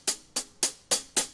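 Five crisp hi-hat hits, dry and unprocessed, in a quick even pulse of about four per second, each a bright short tick with a small shimmer, close and alone.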